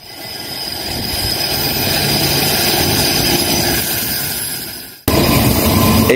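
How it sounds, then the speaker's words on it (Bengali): A train pulls into a Brisbane station, its rumble and rush swelling loud and close, then fading before an abrupt burst of renewed noise. "ট্রেন আসছে"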